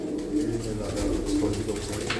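Soft, low pigeon cooing repeats close by, a rounded murmuring call over a faint background hum.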